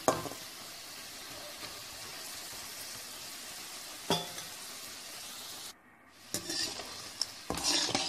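Pieces of snake gourd fry in hot oil with a soft, continuous sizzle, broken by a few clinks and scrapes of stirring in the pan and one brief pause.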